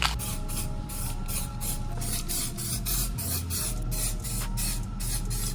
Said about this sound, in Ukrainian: А чорний балончик якраз у нас є, використаємо його на дверні прийоми